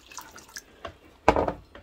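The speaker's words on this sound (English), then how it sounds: "I'm going to add some more of this hot water because it's still hot." Hot water is poured and splashes briefly near the microphone to soften a denture, a short loud gush after a few faint drips and clinks.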